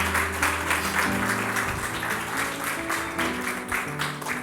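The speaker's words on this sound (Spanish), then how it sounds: "Denle un aplauso a la bendita gloria del Señor." A church congregation applauds during a worship service, steady clapping spread across the room with sustained music or organ tones underneath throughout.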